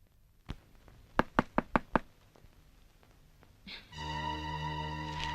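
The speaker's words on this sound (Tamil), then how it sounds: "அவ அங்க கதவை தட்டிட்டு இருக்கா" Knocking on a door: a single tap, then a quick series of five sharp, close raps, followed by a sustained tonal sound that enters near the end.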